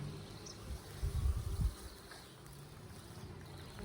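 Low, steady buzzing of many honeybees around a hive, briefly swelling louder before settling back to a soft drone.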